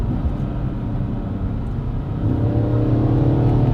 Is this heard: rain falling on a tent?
no